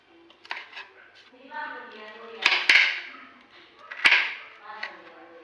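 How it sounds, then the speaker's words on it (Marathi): A knife chops kantule, a wild vegetable, into small pieces in a village home kitchen, giving several crisp taps and clicks on a board, with two louder strikes, while someone talks quietly. "सर्व कंटुले छान बारीक फोडीमध्ये कापून घ्यायचे"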